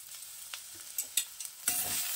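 Bottle gourd leaves stirred and frying in mustard oil with a little salt and sugar, a soft sizzle under scattered scraping clicks of a spoon against the pan, close by.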